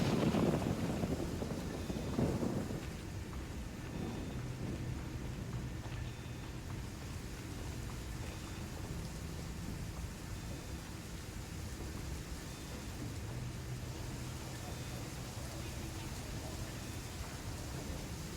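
A thunderstorm in the video game Ghost Recon: steady, hissing rain pours throughout, and a low thunder rumble rolls near the start, with no voices.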